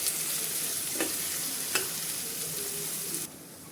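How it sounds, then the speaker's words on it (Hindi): Chopped onions are sautéed for jackfruit kofta curry with a close, constant sizzle and a couple of sharp stirring scrapes; the sound drops slightly near the end. "इनको अच्छे से अब हम भून लेंगे।"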